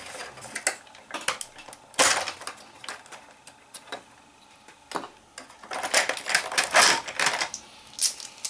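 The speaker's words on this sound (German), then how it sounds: "dem Imbus können wir jetzt das Treibrad aufschrauben" A hex key works loose the drive sprocket screw on a Heng Long Leopard 2 RC tank with metal upgrades, making close, irregular metallic clicks, ticks and small rattles in quick bursts, without speech.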